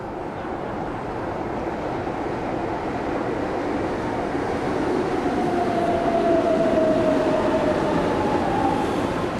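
A subway train rumbles loudly and steadily at Sumaré station on the São Paulo metro. A thin mechanical whine rises briefly over the continuous roar, with no voices.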